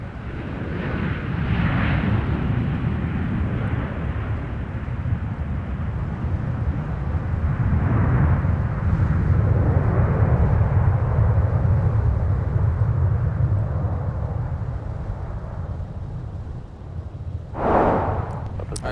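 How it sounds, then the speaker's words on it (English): A Delta Boeing 737-900ER arriving from Spokane at Minneapolis–St. Paul airport gives a steady, loud jet roar that holds throughout, swelling slightly mid-way, with a brief sharper burst near the end. "let's take another look at our arrival from Spokane, Washington with a 737-900ER"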